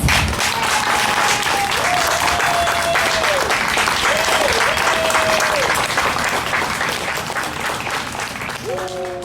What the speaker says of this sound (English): let's give our class of 2021 a final round of applause